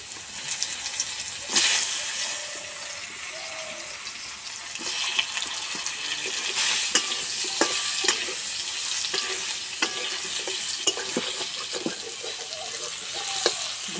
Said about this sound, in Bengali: এই তেলে আমি ঝিঙে ভেজে নেব